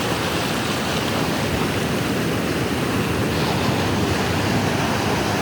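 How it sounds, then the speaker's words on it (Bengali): Big ocean waves surging and breaking at Laboni beach in Cox's Bazar, a loud continuous roar of surf mixed with wind buffeting the microphone, with no voices. "দেখুন বিশাল বিশাল ঢেউ আসছে"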